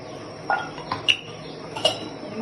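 A metal lid is set down over an appam pan on the stove, giving a few light, sharp clinks spaced apart, close and fairly quiet, with no talking.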